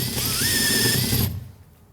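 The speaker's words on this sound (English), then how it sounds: "That means we have to drill the rivets first and remove the head." A power drill grinds loudly through rivets holding a speaker in a VW T5 door, the bit whining steadily with a rising pitch for over a second before cutting off abruptly into quiet.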